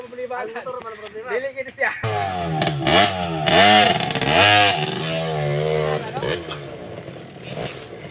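A trail motorcycle engine revs and accelerates nearby while climbing uphill in Mindanao, Philippines, its pitch rising and falling in repeated surges, with a person talking over it at the start.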